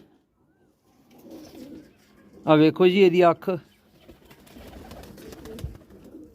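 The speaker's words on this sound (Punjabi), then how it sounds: "ਇਹਨਾਂ ਦੇ ਵਧੀਆ ਉੱਡਦੇ ਕਬੂਤਰ" Pigeons on a rooftop give soft, low cooing that murmurs before and after a short burst of someone talking nearby.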